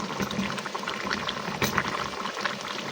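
Potato chips sizzling in hot oil during home cooking, a steady dense crackle and bubbling held at an even level throughout, close by with no voices.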